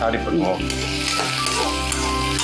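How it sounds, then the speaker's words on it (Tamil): Onions sautéing in a pan for a paneer stuffed chilli dish, a soft continuous sizzle under a low steady hum, with a brief voice near the start. "வெங்காயம் நல்லா வதங்கணும், இல்லைன்னா வாயில அடிப்படும்"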